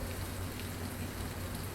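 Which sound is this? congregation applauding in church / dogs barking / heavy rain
heavy rain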